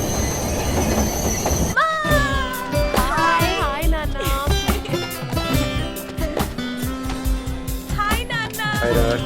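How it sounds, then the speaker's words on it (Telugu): A train rolls in, wheels squealing in sharp rising whines over rhythmic clattering and rumbling carriages, close and loud, with someone speaking briefly amid the noise. "ట్రైన్ వచ్చింది"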